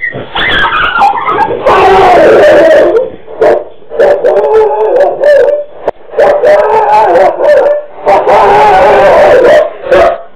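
A dog barks and howls loudly in repeated bursts while fending off a leopard attack, with yelping and whimpering cries between them, close and agitated.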